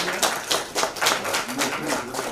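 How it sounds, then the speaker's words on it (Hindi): An audience at a song launch event claps in loud, pulsing waves of applause that swell and ease several times in quick succession. "तो एक बार जोरदार तालियां भाई हम सब के लिए। Big hand."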